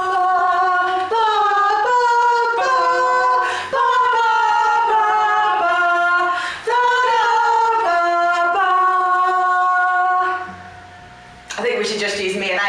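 An instrumental intro track from an album plays loud and close with sustained melodic chords, brief dips between phrases and a drop to near quiet before swelling back in.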